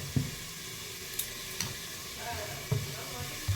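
Soft sizzling of food in a pan, with a few scattered knocks and scrapes from a utensil stirring, fairly quiet and close.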